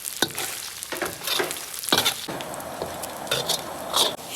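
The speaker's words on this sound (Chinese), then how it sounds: "锅中加油，油热下葱姜，下入火锅底料，炒香炒滑，各种香料一块炒香" Scallion, ginger and hotpot base being stir-fried in hot oil in a pan, with crackling sizzle under brisk, irregular scrapes and clinks of a spatula, close up.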